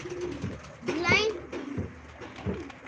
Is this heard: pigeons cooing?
yes